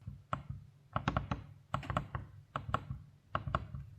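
Someone types on the keyboard of an Asus TUF A16 2025 budget gaming laptop, with quick bursts of soft, close key clicks broken by brief pauses, fairly quiet.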